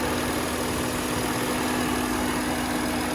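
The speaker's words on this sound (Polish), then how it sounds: "Ładnie pracuje ten motor." A Volkswagen Touareg 3.0 TDI V6 diesel engine idles smoothly and steadily, a constant close hum with a faint whine above it, no voices heard.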